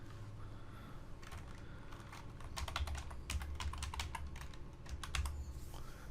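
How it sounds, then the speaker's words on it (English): Typing on a computer keyboard while searching a stock photo site, a run of quick close key clicks in uneven bursts that grow busier midway, with no talk over them. "type in what you want"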